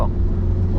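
Car engine accelerating during a driving lesson, a steady close drone of the motor inside the cabin, with an instructor's voice faintly over it.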